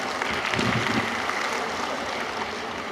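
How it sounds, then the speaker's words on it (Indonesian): Steady applause from a crowd at a Makassar city government coordination meeting, a dense, even wash of clapping that holds at a constant level throughout without spoken words. "tepuk tangan untuk kita semua Pak"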